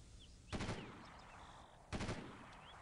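Two short bursts of enemy gunfire from the video game Delta Force 2, rapid automatic volleys about a second and a half apart over a hissy game background, fairly quiet and distant.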